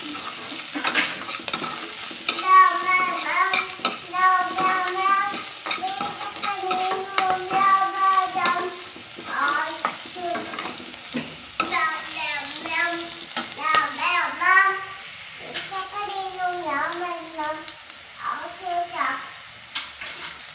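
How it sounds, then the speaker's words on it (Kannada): Grated carrot cooks in oil in a pan for carrot rice, giving a continuous sizzle with scraping stirring sounds, while a voice talks over it throughout. "ಕ್ಯಾರೆಟ್ ಸ್ವಲ್ಪ ಬೇಯಬೇಕು, ಎಣ್ಣೆಯಲ್ಲಿ ಸ್ವಲ್ಪ ಬೇಯಬೇಕು."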